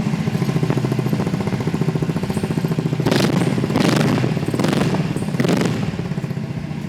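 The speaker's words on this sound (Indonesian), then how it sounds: "kita hidupin aja suaranya biar teman-teman bisa dengar suara knalpot dual flow Remus itu gimana sebenarnya" A Vespa GTV 300 HPE scooter's Remus dual-flow exhaust rumbles steadily at close range with a deep, rounded tone, swelling briefly a few times as the engine is revved.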